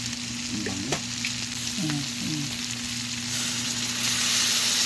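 Sinantol ingredients frying in a pan, giving a steady close sizzle with a few short warbling tones over it and no talk.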